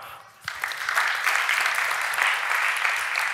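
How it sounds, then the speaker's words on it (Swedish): An audience at the 24 Hour Business Camp pitch event breaks into applause after a brief quiet moment, and the clapping swells quickly to a steady, full roar that carries on without talk. "Applåd"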